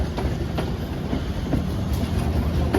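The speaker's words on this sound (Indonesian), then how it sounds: "Jadi double lokomotif dari arah Cibatu ya teman-teman." A train pulled by two locomotives, coming from the Cibatu direction, rolls past loud and close with steady rumbling and rhythmic wheel clatter.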